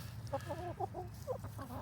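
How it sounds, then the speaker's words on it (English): Several hens cluck softly in short, overlapping bursts close by, with a low steady hum running underneath. "come say hi to the chickens"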